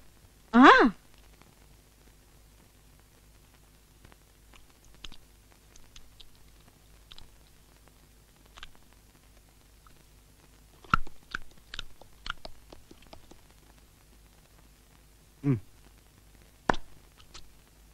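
Someone chews and bites food in a comedy film scene, with sparse crunchy bites and mouth clicks scattered over a quiet background and a brief vocal sound near the start.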